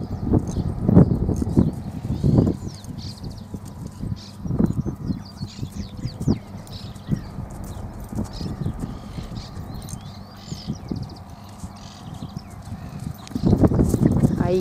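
Chestnut Criollo-cross horse working in a riding arena, its hooves clip-clopping in bursts of rhythmic footfalls, with someone talking steadily over them.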